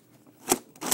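Quick mechanical pump-action stroke of a Raider CS-35 toy foam blaster, a sharp bright rasp followed moments later by a second snap, close and fairly soft.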